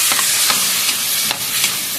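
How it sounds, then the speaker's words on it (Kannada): Steady sizzling of masala frying in a hot pan for bitter gourd pulimunchi, with a few brief stirring scrapes; close and continuous, no voices. "ಇದು ಮಸಾಲೆ ಫ್ರೈ ಆಗಲಿ"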